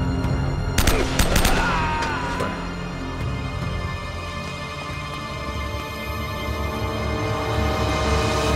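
Gunfire in the video game Uncharted: Drake's Fortune, a quick burst of sharp loud shots near the start followed by a sustained roar of game ambience and music; no one speaks.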